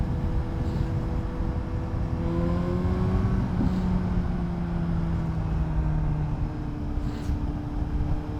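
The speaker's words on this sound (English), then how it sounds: "Let's try pulling in 3rd gear." A 2012 Suzuki GSR750A motorcycle accelerates hard in third gear on a highway, the engine note rising steadily under heavy wind rush, loud and continuous with no talk.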